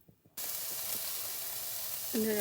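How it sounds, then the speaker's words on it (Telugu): Chopped onions and green chillies hit hot oil in a pan for cauliflower Manchurian fried rice, breaking into a loud, steady sizzle after a brief quiet start, with a clink of utensils near the end. "ఇప్పుడు జస్ట్ ఆనియన్స్ని పచ్చిమిర్చిని ఇందులో వేసుకొని ఫ్రై చేసుకుంటాను"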